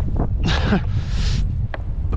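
Gusty wind rushes across open water during kayak fishing in a remote Coromandel bay, a loud broadband roar with two strong surges close to the microphone and brief thin sounds afterward.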